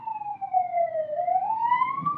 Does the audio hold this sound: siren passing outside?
yes